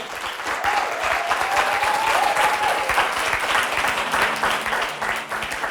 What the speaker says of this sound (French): je voudrais que vous applaudissiez, que vous fassiez un triomphe pour Sophie Fontanelle